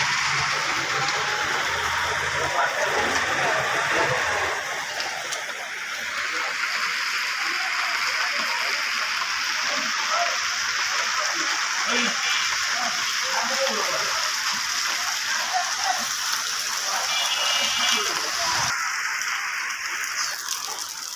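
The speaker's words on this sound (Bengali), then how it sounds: "যে পরিমাণ বৃষ্টি হচ্ছে" Heavy downpour in Kanaighat, a steady dense hiss of rain on surfaces running throughout, loud and close, with a brief break near the end.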